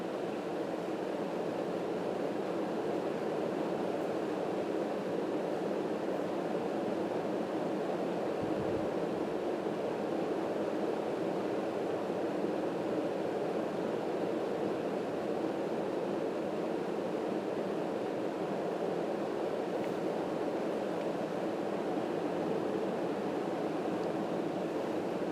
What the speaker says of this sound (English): absolutely no noise aside from the sound of wind being blown around